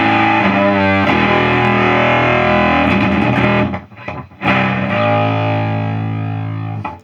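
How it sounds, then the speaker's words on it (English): An electric guitar plays through the distortion effect of a 1982 Cort Effector pedal, giving loud, thick, sustained chords with a brief gap in the middle before the ringing fuzz resumes and slowly fades. "And here's what the distortion sounds like."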